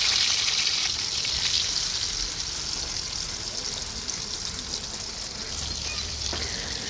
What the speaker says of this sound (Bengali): তারপরে মাছটা এখন ভেজে নিচ্ছি।